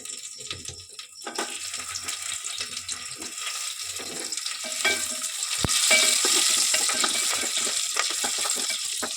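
Tempering for a vegetable pulao: mustard seeds, curry leaves and onion hit hot oil in a pan, first light crackles and clinks, then a louder, denser sizzle with sharp pops for the rest, no voices.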